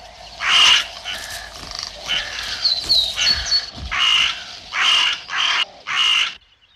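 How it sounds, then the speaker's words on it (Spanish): Carrion crows fighting a goshawk in a forest, giving a series of harsh, loud caws in bursts roughly every half second to second, with a brief raptor-like squeal among them, close and fairly loud. "la ferocidad de las cornejas, que ponen en peligro su propia vida luchando con una rapaz tan fuerte como el azor"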